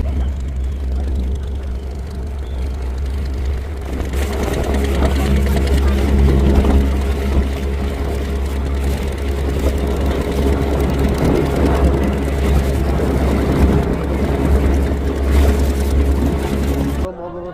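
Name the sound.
boat engine running at the boat ghat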